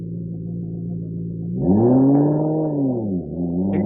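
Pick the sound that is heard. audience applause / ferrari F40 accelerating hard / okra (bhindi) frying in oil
ferrari F40 accelerating hard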